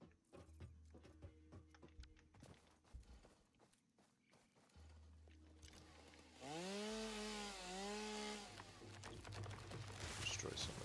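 Chainsaw in the video game Satisfactory revs and cuts in a steady droning burst with rising and falling pitch sweeps, preceded by footsteps and clatter, with a voice speaking over it.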